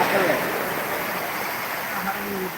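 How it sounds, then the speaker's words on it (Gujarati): Steady heavy rain pours down outside a village house, a dense, even hiss of falling water close by and continuous throughout, with faint voices underneath. "બહુ વરસાદ પડે છે"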